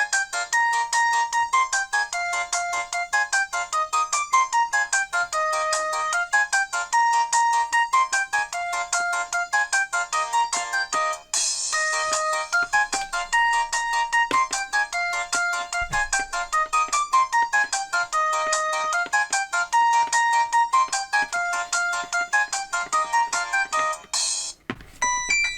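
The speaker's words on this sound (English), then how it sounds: "The ringtones are a lot better on this phone than that one." A Skype-branded phone plays a looping electronic ringtone melody, loud and steady, switching to a different repeating tune partway through with no talking.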